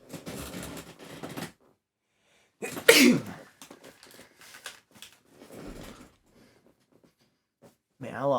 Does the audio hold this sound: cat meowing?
no